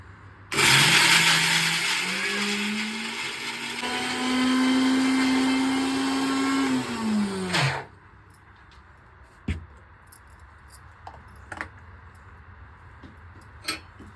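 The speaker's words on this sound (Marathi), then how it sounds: "आता मिक्सरला लावून झालेली आहे" Mixer grinder whirring through red chilli and garlic for Maharashtrian thecha chutney, made without water. It starts loud, its motor pitch rises and holds for about seven seconds, then cuts off, followed by faint clinks and handling noises.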